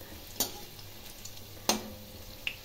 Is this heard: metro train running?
no